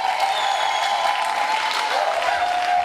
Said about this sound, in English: we should be clapping until he sits down